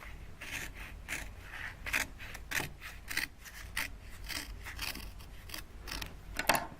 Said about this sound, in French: Je découpe suivant tous les plis.